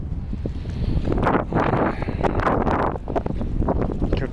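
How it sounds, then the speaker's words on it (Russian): Strong, warm, near-hurricane wind at night in Alanya buffets the microphone with a continuous loud rumble and gusty roar for the whole stretch, and no voices are heard. "Я вам не могу передать, какой силищий ветер."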